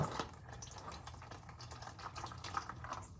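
Fluid drips from a part of a 1988 Chevy C30 square-body truck in a workshop, a faint, steady trickle and patter with scattered drops over low background noise.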